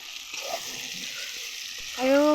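Goat meat with ginger and garlic sizzles softly in a pan, a steady crackling fry with a brief brighter clatter of stirring toward the end.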